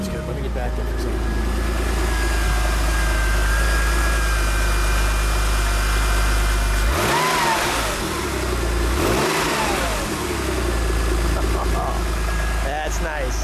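A 1997 Porsche 911 993 Turbo S idles close by with a steady low hum, then gives two sharp revs, each rising and falling, before it settles back to idle.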